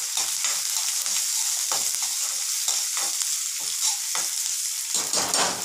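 Onions and boiled green gram stirred in a frying pan, with a bright continuous sizzle broken by repeated scraping stirs, close and alone without speech.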